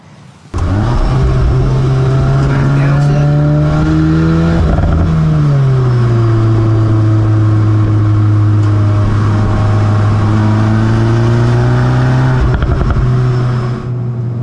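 Revving engine of a VW Golf R MK8 hatchback, holding a loud, steady high-rpm drone that rises and falls in pitch, with sharp exhaust pops and bangs breaking through near the start and end, no voices.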